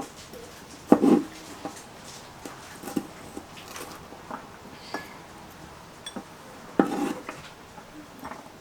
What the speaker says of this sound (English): And then we're just going to be chopping them up.